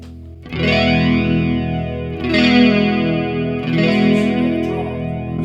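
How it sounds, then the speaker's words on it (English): Guitar played through a Blackstar HT-Modulation pedal set to flanger with added saturation: three strummed chords ring out in turn, each with a sweeping, whooshing comb-filter swirl and a slightly driven, full tone, loud and close with no talking. "We've just got flange on there at the moment."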